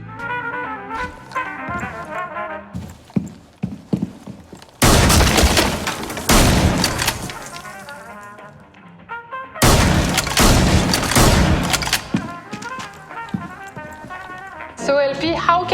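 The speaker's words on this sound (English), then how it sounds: "take a shotgun, blow a hole in the wall" A shotgun blast tears a hole through a wall in the Rainbow Six Siege video game, loud and booming with crackling debris. It is heard twice amid busy game sounds and background music.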